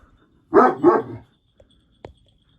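Two loud dog barks in quick succession, followed by a brief sharp knock, then quiet.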